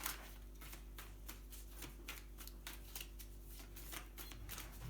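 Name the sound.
oracle cards being shuffled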